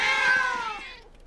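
A cat gives a single loud, close meow, bright and drawn out for about a second before it trails off, with no talk over it.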